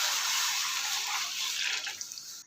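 Water pours into a cooking pot for a village-style saag, a steady close splashing rush that thins out toward the end into a few drips.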